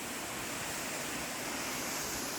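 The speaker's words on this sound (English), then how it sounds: "Yeah, here you can see the waterfall. The water really falling down the cliff" Wah Kaba waterfall in the Khasi hills of Meghalaya pours down a cliff into a deep valley, making a steady, unbroken roaring wash of falling water.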